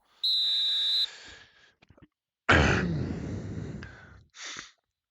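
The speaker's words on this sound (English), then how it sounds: "That will be the halftime whistle." A referee's whistle signals halftime in a football video game: one sharp, steady blast under a second long, followed by a loud breathy burst and a shorter tonal sound.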